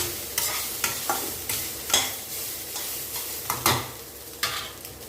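Rice cooked with pear is mixed in a pan, with regular scraping stirs of a spoon about every half second over a soft, steady sizzle, close and clear with no talk.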